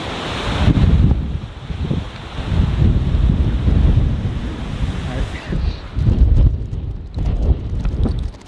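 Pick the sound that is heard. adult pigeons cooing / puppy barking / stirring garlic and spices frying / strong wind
strong wind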